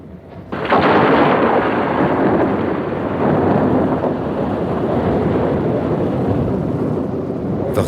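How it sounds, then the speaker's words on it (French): A thunderstorm in a forest breaks with a sudden loud crack of thunder that swells into a long, heavy, rolling rumble, sustained and close, with no voices. "L'orage est là"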